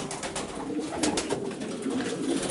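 Racing pigeons coo softly in a breeding loft, low murmuring calls from several birds close by, alone without talk.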